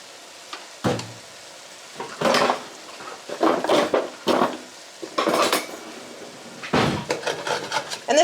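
A metal utensil scrapes and clanks around a cast iron pan holding beef stew with dumplings, several bursts of scraping and stirring at close range with short pauses between.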